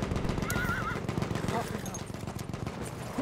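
A horse whinnies briefly amid Battlefield 1 game action, with rapid gunfire-like crackles and background noise.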